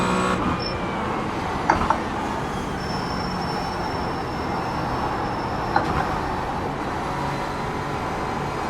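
Race car in a sim racing video game, a steady loud engine drone with continuous road and tire noise throughout, broken by a few brief clicks, no talking.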